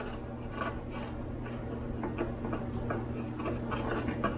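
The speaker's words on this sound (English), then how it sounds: "so just carefully lightly scraping letting loose uh, all the dirt, dust and stuff that accumulated" A screwdriver lightly scrapes loose dirt and dust inside the door of a 15-year-old 4th-gen Toyota 4Runner, making faint, quick, ticking scratches at an uneven rhythm over a steady low hum.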